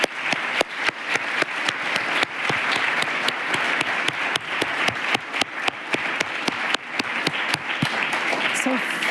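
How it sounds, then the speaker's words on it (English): Warm applause from a forum audience at the closing of an international event on global citizenship education, dense rapid clapping throughout with some sharper nearby claps standing out, and faint speech underneath. "I do want a round of applause for them who made it all possible"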